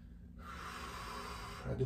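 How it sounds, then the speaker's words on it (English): Deep belly breathing during a hamstring stretch lying on a bed with a strap, one long audible breath of airy hiss lasting over a second, close and fairly soft with a faint snort at the end. "I do belly breathing."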